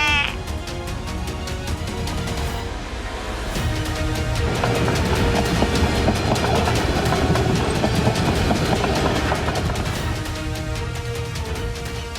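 A train passing along a railway track gives a loud, sustained rumble with ringing, horn-like tones that hold steady for the whole stretch.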